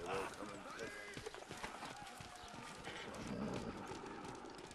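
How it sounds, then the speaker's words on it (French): Small horse trotting in a French-language World War I adventure video game, a soft steady clip-clop of hooves running under continuous game ambience and background noise. "Ouh, le petit cheval."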